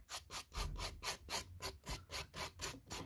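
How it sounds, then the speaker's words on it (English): A 180-grit nail file rasps across a nail tip under light pressure, making close, rhythmic back-and-forth scratching strokes at a steady pace of roughly three per second, with no voices. "I am using the 180 grit side of this nail file, but I'm applying very light pressure."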